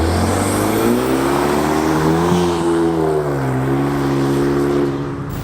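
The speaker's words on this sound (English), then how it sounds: "this thing makes a pretty big amount of turbo noise" A Hyundai Genesis Coupe's turbo engine drones loudly and steadily, its pitch rising and dipping slightly under light throttle changes, with no talk.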